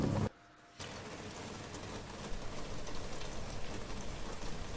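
Rain running down a rain chain falls steadily with a dense, even patter and trickle, briefly dipping near the start before resuming; no voices.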